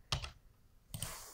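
Computer keyboard keys tapped while working in compositing software, with a short cluster of quick clicks, a pause, then another burst of taps and a final single click, close and fairly quiet.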